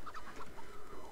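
A chicken in the video game Crysis gives a few quick, soft clucks in a short rhythmic burst, faint and close.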